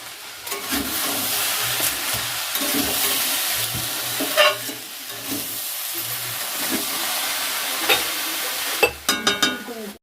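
Steady sizzling of vegetables frying in a pan, with repeated scraping and stirring strokes from a spatula and a few sharper clatters near the end.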